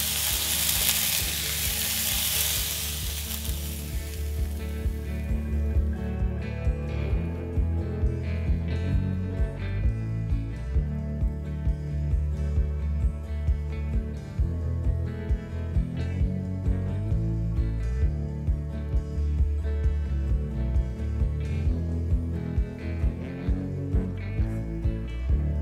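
Sliced courgettes fry in a pan with a steady close sizzle, punctuated by repeated scraping and knocking of a utensil as they are stirred, the sound continuous and fairly loud throughout with no talking.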